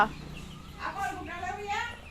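A few young chicks and hens cheep and cluck faintly outdoors, short chirps rising through the middle and end while a nearby voice talks over them.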